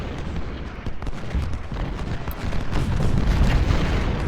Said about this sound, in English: Oh, we've got enemy cannons in there.